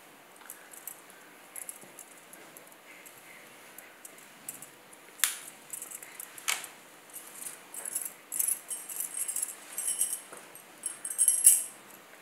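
Shelled green peas, dried after washing, poured into a plastic bag for freezer storage, giving soft rustling and light rattling that grows busier and louder toward the end, with no talking.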